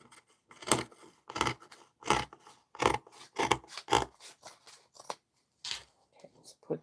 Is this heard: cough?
no